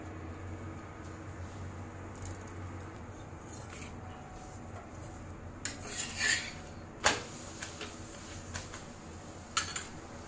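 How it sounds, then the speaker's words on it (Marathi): A moong dal puranpoli is flipped on a pan with ghee, over a low steady kitchen hum. A few sharp metallic scrapes and clinks of a spatula against the pan come close by in quick clusters near the end. "त्यावर मी घालून घेते तूप आणि आता ही आपण पलटी करून घेऊया।"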